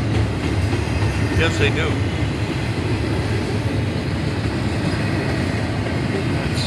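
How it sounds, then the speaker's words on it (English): A train rolls past on a railroad track in Walbridge, Ohio, a loud steady rumble with clattering wheels throughout, while a person speaks briefly over it. "It's got a lot of trains on it."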